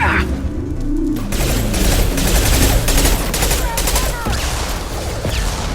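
Heavy gunfire in the video game Mass Effect 2: a dense, loud, sustained barrage of rapid shots and blasts that fills the whole stretch, with a voice briefly heard over the shooting.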